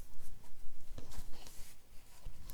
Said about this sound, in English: I have to make a little mark so I can see